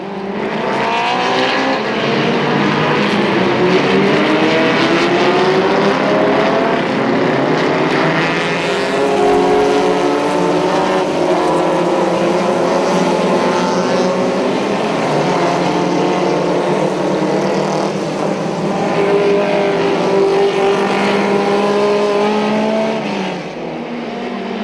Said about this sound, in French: excellent départ de Pligno-Haas qui prend l'avantage au virage des deux ponts